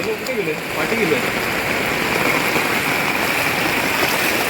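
Heavy monsoon rain pours down on a residential society as water floods the area, a loud constant rushing and splashing downpour with a brief voice-like murmur near the start.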